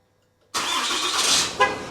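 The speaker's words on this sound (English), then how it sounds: "Bam, truck is started and ready to go." A 2020 RAM 2500 diesel truck starts by remote start after silence: the engine catches abruptly and settles into a loud, steady roar with a brief bump near the end.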